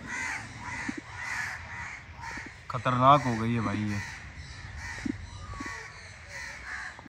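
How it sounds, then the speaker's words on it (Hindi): Crows caw repeatedly overhead at a zoo, several harsh calls rising above the background while people talk nearby. "अब वो कौवे ऊपर से देखे कितना काँव काँव कर रहे हैं"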